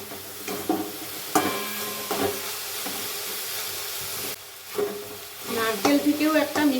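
A coconut and jaggery filling fries in a pan, with a soft sizzle and hiss under intermittent scraping stirs. The sound is fairly quiet and close, and it briefly drops out midway.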